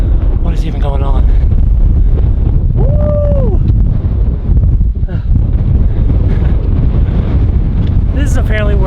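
Strong, gusty wind batters the microphone in a traditional Japanese village with a loud, continuous roaring rumble that nearly drowns out brief voices heard faintly underneath.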